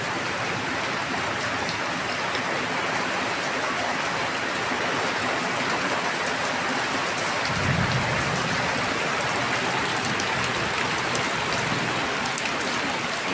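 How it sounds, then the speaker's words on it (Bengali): Heavy rain pours down steadily during an afternoon storm, a dense continuous hiss of drops hitting surfaces close by, with a brief low rumble partway through and no voices. "কি বৃষ্টি,"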